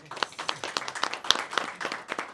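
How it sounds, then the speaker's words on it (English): Scattered clapping from a small audience at a civics and citizenship eLearning game launch, irregular hand claps spread across a couple of seconds at moderate volume, with one sharper, louder clap near the middle. "I think he deserves a special round of applause"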